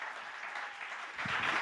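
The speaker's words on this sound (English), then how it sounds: "a warm applause for all the other 9 startups that we have been already heard about" Applause from a tech summit audience greeting a startup presenter, a steady moderate wash of clapping that swells slightly louder toward the end.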